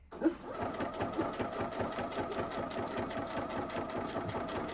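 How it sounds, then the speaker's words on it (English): A home sewing machine runs in a quick, steady mechanical whir while a quilt is sashed, the close stitching rhythm continuing unbroken after a brief bump at the start. "My sewing machine is being temperamental today."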